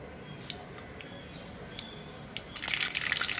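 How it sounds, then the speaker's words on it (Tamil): Mustard seeds spluttering in hot oil while tempering spices for kara urundai, giving a few scattered pops at first, then a dense crackling burst that builds toward the end. "கடுகு நல்லா பொரிஞ்சிருச்சு."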